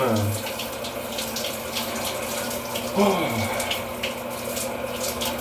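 A domestic shower runs steadily in a home bathroom, a continuous hiss of falling water with a brief splashy swell midway and no talking over it.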